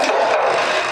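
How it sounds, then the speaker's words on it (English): A drill backing out of a freshly drilled hole in a wooden spinning top, giving a steady, close scraping whir that holds for under a second. "And our hole is drilled."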